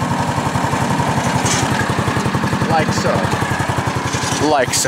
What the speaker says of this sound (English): This button here lowers the rake.